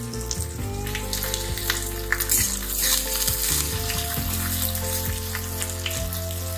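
Green chillies and chopped ginger frying in hot oil in a pan, a loud, constant crackling sizzle with a few low knocks of stirring and no voices.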